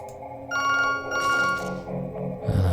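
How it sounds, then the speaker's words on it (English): A telephone rings in the video game To the Moon, a bright electronic ring with steady tonal layers that repeats in bursts over soft background music, loud and close, with no talking. "That'll be a phone."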